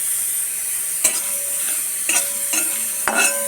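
Spice mix fries in a wok with a steady, close sizzling hiss, broken by a few sharp spatula scrapes and clinks against the metal.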